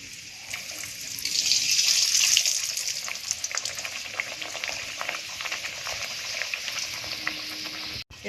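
Kochuri dropped into hot oil sets off a close, crackling sizzle that swells loudly within the first two seconds, then settles into steady bubbling frying with scattered pops, ending with a brief clatter.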